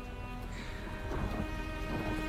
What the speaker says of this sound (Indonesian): hujan mulai turun cukup deras